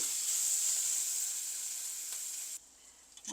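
Brinjal sizzles loudly while sautéing with cinnamon, green chilli and spices in a hot pan, a steady frying hiss that drops away abruptly near the end, followed by a faint clink.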